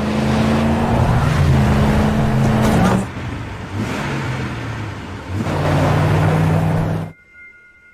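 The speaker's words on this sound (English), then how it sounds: "They avoid collision with their car as the group drives it recklessly in the woods." A car is driven hard through woodland, its engine droning and revving loudly with shifting pitch, easing briefly in the middle before surging again and then cutting off abruptly near the end.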